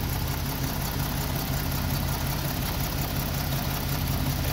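A rough-running Jeep engine idles steadily and close by, a dense low rumble with an uneven pulse that holds throughout without pause.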